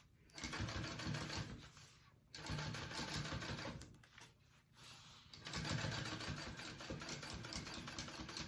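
A sewing machine top stitches the layers of a classic handbag, running in three steady bursts of rapid mechanical stitching separated by short pauses, close and fairly loud.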